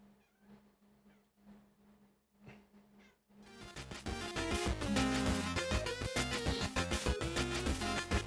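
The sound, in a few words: cat meowing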